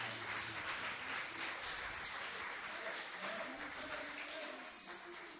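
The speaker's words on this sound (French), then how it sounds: "Oui, vous pouvez applaudir si vous voulez," A church congregation at a Protestant service applauds with steady, even clapping that fades slightly toward the end, with faint background music beneath it.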